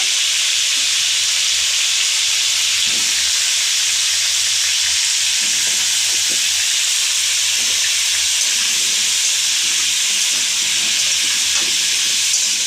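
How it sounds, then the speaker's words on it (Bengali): Potatoes frying in a pan for an oil-free chicken dish, giving a steady, close broadband sizzle and hiss that runs unbroken for the whole stretch, with a few faint clinks and scrapes underneath. "এখানে হচ্ছে আলুটাকে খুব ভালোভাবে ভেজে নিচ্ছে"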